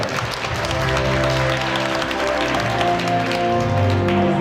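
Audience applause at the closing ceremony of the Republic of Cinema film festival in Yakutia, continuous dense clapping with sustained musical tones underneath, loud and steady throughout.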